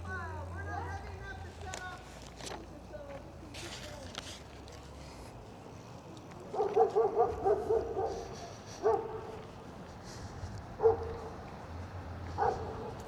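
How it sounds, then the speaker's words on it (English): Outdoor street ambience in downtown Henderson, Tennessee, with someone talking, then a burst of several dog barks in quick succession, followed by a couple of scattered barks further on. "there's a lot of dogs out today."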